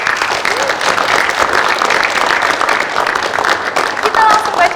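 Studio audience applauding at a campus beauty pageant segment on an Indonesian TV show, steady dense clapping with cheers throughout and a few voices mixed in.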